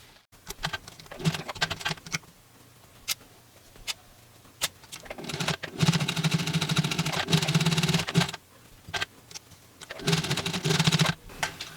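Home sewing machine stitching a glove cut from T-shirt fabric: close, rapid mechanical patter in several bursts, the longest around six to eight seconds, separated by short pauses and quieter handling.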